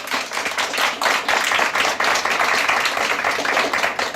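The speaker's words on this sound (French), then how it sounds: "qu'on peut applaudir très fort" Audience applause for an actress at the Baguettes d'or 2016 awards ceremony in Paris: dense, steady clapping from many hands, loud and sustained throughout with no talk over it.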